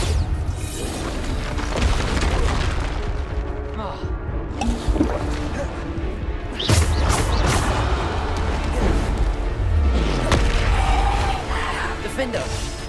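Bombarda explosion spells go off in Hogwarts Legacy, heavy booming blasts with crackling debris over a loud, dense battle din, with a spoken voice in the mix.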